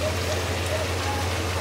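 Steady rain falls outdoors as a close, continuous broadband wash with no distinct drops standing out, over a low constant hum.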